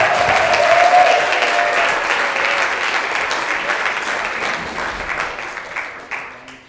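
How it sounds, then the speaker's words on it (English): An audience at a church talent show at the Congregational Church of Brookfield claps warmly, loud at first and gradually thinning and fading over several seconds. "How about a little more applause there?"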